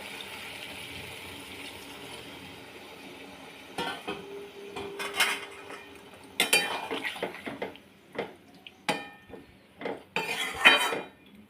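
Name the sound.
okra dish being stirred in a pan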